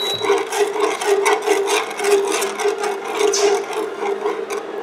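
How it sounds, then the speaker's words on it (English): A spoon stirs burger sauce simmering on low heat in a pan, giving steady, continuous rubbing and scraping strokes at close range with a low bubbling hum underneath and no talking. "While it's simmering, I'm just stirring it right here."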